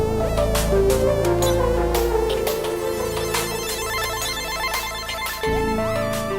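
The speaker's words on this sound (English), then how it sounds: "I made the music that we can hear in the background at the moment using exclusively sounds from" Chiptune-style music made with a synthesizer built around two SID chips plays loudly, with bright buzzy square-wave leads, fast arpeggiated runs and sharp noise-percussion hits over a steady bass line.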